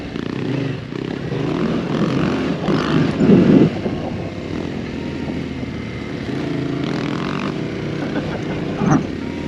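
Yamaha Tenere 700 adventure motorcycle ridden hard through sand, with a steady engine drone and surges in revs under buffeting wind noise on the microphone.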